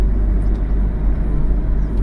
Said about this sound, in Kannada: ಇಲ್ಲಿ ನೋಡಿ ಹೆಂಗ್ ಹೋಗ್ತಾ ಇದೆ ಗಾಡಿ